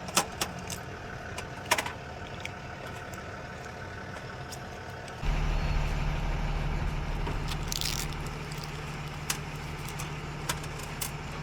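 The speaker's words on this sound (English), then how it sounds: "there is a truck idling next to me" A truck engine idles nearby as a steady low rumble that swells louder partway through, with scattered metallic clinks and taps from workshop activity on top.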